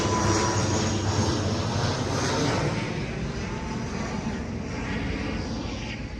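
An airplane flies overhead near Nedumbassery airport, a loud continuous broadband engine roar that fades slightly as it passes, with no speech.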